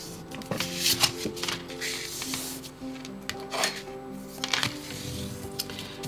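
Paper is folded in half for a small handmade journal, giving soft crinkling, rubbing and creasing sounds in a close, quiet setting.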